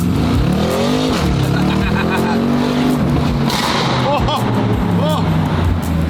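A Bentley car runs loud and close with its engine revving and shifting in pitch, rough and sustained throughout, with a few sharp bursts near the end that may be exhaust pops.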